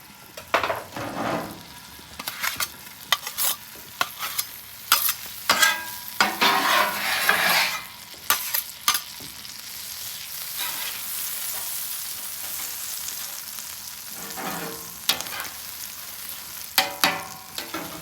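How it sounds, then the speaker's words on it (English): Butter sizzling and spattering on a flat top grill, with a steady frying hiss broken by sharp crackles and scraping, close and fairly loud, no voices. "We're gonna do butter on the flat top."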